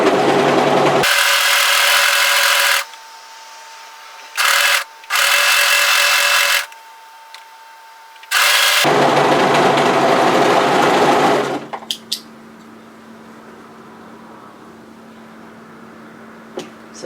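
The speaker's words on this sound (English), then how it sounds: "What we need to do is overlock around the curve of the pocket" An overlocker stitches around the curved pocket pieces of a hoodie in several loud, close whirring bursts of differing lengths separated by short pauses, then falls to a faint steady hum.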